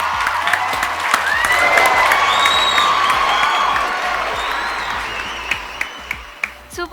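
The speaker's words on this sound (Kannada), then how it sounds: "ಪ್ಲೀಸ್ ಜೋರಾದ ಚಪ್ಪಾಳೆ" A studio audience at a television game show applauds loudly and continuously, with cheers and whoops mixed in, before the clapping thins out into a few scattered claps.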